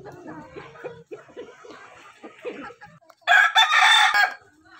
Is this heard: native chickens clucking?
yes